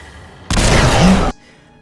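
A live grenade explodes in a Fallout video game: one loud, dense blast that holds for under a second, then cuts off abruptly into a quiet tail.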